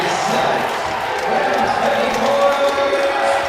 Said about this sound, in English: And here comes the crowd, alive once again.